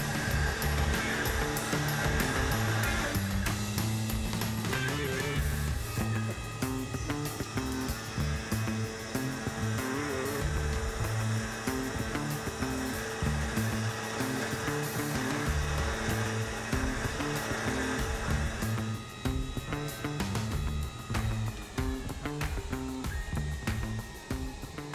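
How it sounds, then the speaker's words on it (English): A Tormach CNC machine milling a hole in a blank, a steady, loud machining whine with dense tonal cutting chatter that runs continuously and evenly throughout. "it's just machining the hole out for us. And you can hear as it cuts, it's got a real nice sound."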